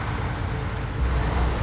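Truck engine in the off-road driving game SnowRunner, a steady low rumble that swells and deepens partway through as the engine fires back up, loud and alone without talk.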